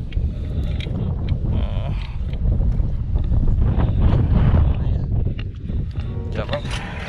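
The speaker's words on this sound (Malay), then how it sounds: "Air lawa tapi angin pula kuat." Strong wind at sea buffets an inflatable fishing boat, making loud, gusty rumbling microphone noise throughout. Voices talk under the wind.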